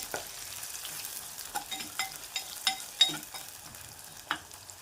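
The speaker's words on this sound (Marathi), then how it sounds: "कांदा उभा चिरलेला मस्त ब्राऊन होईपर्यंत जास्त ब्राऊन नाही करणार आपल्याला थोडीशी भाजणार आहे" Sliced onion roasting in a pan over medium heat, a low steady sizzle punctuated by a string of sharp, close scraping and stirring knocks at irregular intervals, with no voices.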